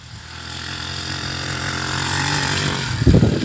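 A motorcycle rides on a dirt practice patch beside a house, its engine running steadily and growing slightly louder, with a brief rougher burst near the end.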